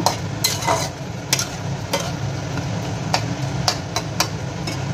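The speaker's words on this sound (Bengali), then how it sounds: "এবার সবশেষে আমি একটু গরম মশলা গুঁড়ো দিয়ে দেব। দিয়ে ভালোভাবে নাড়িয়ে চাড়িয়ে একটু ফুটিয়ে নেব।" Soybean curry with yogurt and garam masala being stirred in a pot, with repeated scraping strokes and metallic knocks over a low simmering sizzle, loud and close, no speech.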